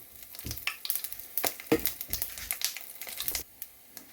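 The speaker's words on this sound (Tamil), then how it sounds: "இப்போ இந்த கருவாய் ஏலக்காய் கராம்பு சின்ன சீரகம் எல்லாம் போட்டுட்டு இது வந்து நல்லா வதங்கட்டும்" Whole spices, cinnamon, cardamom, cloves and cumin seeds, fry in hot oil in a pan for a soy paneer tofu curry, giving close crackling sizzles and scattered pops and stirring scrapes with no talking.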